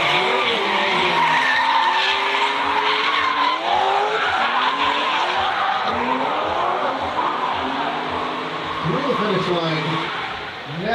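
Drift cars at a Southern Regional Drifting event on the plains howl through the outer zones with sustained tire squeal and screeching skids, engines roaring loud and continuous throughout, with a commentator talking over the action.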